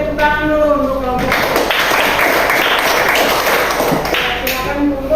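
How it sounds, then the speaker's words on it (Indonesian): Students in a classroom clap for a group that has presented its work, a burst of scattered hand clapping that follows a teacher's voice and continues steadily with some background chatter. "Kalau begitu kita tepuk tangan dulu untuk kelompok."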